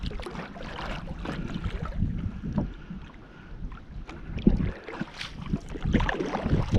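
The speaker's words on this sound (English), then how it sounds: "Got a little bit of wind coming at me here." Wind gusting against a microphone while paddling a Dagger Crossover 12.5-foot kayak on open water: continuous rough buffeting with uneven swells, close and fairly loud, plus faint water splashes and no talking.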